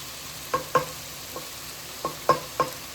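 Mushrooms sautéing in a pan for biryani, a low sizzle under a handful of sharp spatula taps and scrapes in two small bursts, close and brief.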